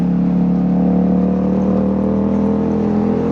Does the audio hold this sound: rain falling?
no